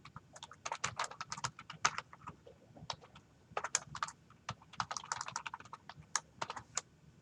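Rapid typing on a computer keyboard, a steady stream of close, crisp key clicks with brief pauses, alone without talk.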